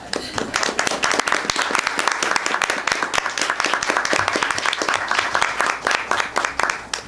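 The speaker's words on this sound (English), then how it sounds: "We can applaud you." An audience claps for Hatch representatives at a Cabrillo Unified School District board meeting, a dense, steady round of applause that fills the room, moderately loud, with faint voices mixed in.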